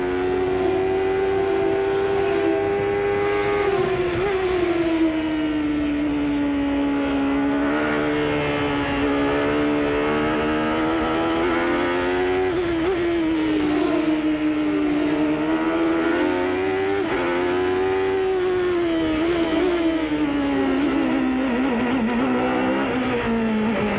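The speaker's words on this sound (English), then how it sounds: "We've got the onboard telemetry from Chevrolet's engine here on Little Al's car." Onboard a 1993 CART IndyCar at the Detroit Grand Prix, Little Al's Chevrolet engine screams loudly and continuously, its pitch climbing and dropping repeatedly as the driver short shifts through the gears.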